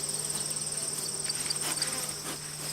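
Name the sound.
honey bees buzzing at backyard hives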